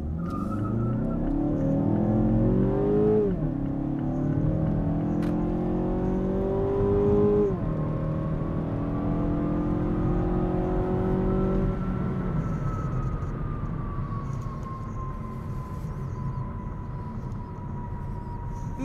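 A 2016 Mazda 6 with the 2.5-litre engine accelerates flat out, its engine note climbing steadily through several gear changes, loud and close with road and wind roar building, no talking.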